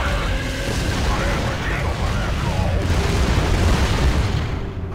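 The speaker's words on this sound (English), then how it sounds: "Mortars!" Mortar explosions in the video game Gears of War 2, a dense and loud rumbling barrage of booms filling the whole stretch, mixed with shouted game voices.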